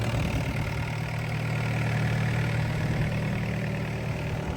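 A 2011 Bobcat E80 midsize excavator's engine idles steadily, a close, even diesel rumble with a low hum and no change in pace, heard alone without voices.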